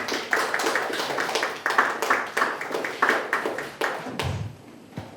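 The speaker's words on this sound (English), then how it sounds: "You can clap more, you know" A small audience at a library author talk claps in a moderate, uneven patter of individual hand claps, fairly close, with a few louder claps standing out before it tapers off.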